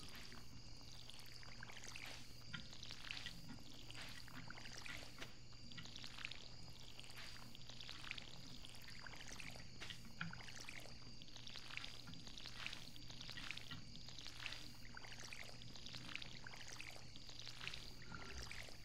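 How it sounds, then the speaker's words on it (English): A watering can splashes water onto crops in Stardew Valley in a repeating, regular pattern of soft pours over quiet background game music. "And now we water plants."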